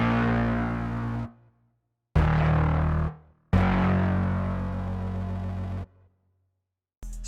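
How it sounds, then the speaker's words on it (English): Two layered synth basses from the Waves Flow Motion and Element plugins play three long, heavy sustained notes separated by brief silences, deep and loud with no talking. "both those basses together sound like this"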